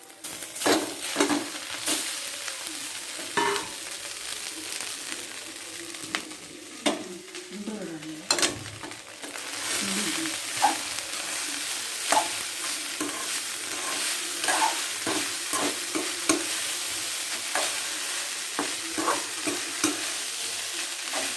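Rice and egg being stirred in a frying pan for a home-cooked egg rice dinner: steady scraping and clinking of a spoon against the pan over a soft background sizzle, continuing throughout with no talk.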